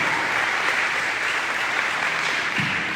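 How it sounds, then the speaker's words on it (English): Audience applause at a school district breakfast, a dense, steady clapping from a large crowd in a room, loud and continuous for the whole stretch. "if we can give a big round of applause for Director Forrest, our communications director"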